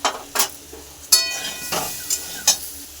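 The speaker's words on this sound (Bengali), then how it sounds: "আমটা আমি সুন্দর করে তেলে ভেজে নিচ্ছি" Mango pieces for mango pickle, seasoned with Kashmiri chilli powder, fry in oil while being stirred; a few sharp scraping stirs and clinks stand out over a faint, steady sizzle.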